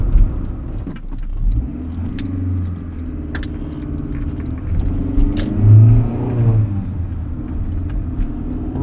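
A 1988 Honda CRX Si with a 5-speed manual drives along, its engine a steady low hum with cabin rumble, rising and easing as gears change and small rattles come through.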